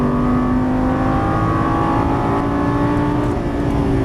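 Lamborghini Gallardo LP550 on a racetrack accelerating out of a turn, a loud, close, steady engine roar with strong low harmonics held for about four seconds and no voices.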